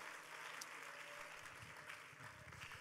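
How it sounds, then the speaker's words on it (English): A church congregation claps hands to the Lord during a sermon, a steady rhythmic patter of many hands, faint and somewhat distant, with a low hum beneath. "Shall we clap our hands to the Lord?"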